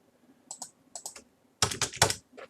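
Computer keyboard typing in a quiet room, a few light separate keystrokes followed by a louder, denser burst of key presses as Enter is hit, then one last soft tap.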